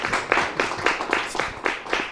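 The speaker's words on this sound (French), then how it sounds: "Est-ce qu'on peut l'applaudir?" Audience clapping at a children's day celebration, a dense burst of applause that swells in rhythmic waves, fairly close and steady with no talk over it.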